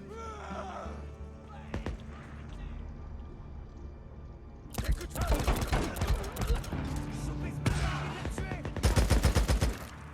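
Gunfire in the video game Days Gone, starting quiet with a few isolated shots, then bursts of rapid loud shots and clatter in the second half.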